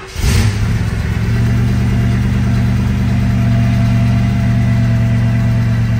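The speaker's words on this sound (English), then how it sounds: "Great cold start." A 1939 Ford Coupe engine fires on a cold start with a brief burst, then settles into a steady, loud, low rumbling idle close by, with no talk over it.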